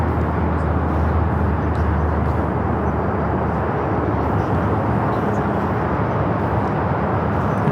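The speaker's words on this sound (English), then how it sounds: "Nippon Cargo Airlines 101 taking off to Tokyo Narita on the 747-8 freighter." A Nippon Cargo Airlines Boeing 747-8 freighter taking off from Los Angeles airport, a loud, steady broadband jet engine roar that fills the whole stretch without easing.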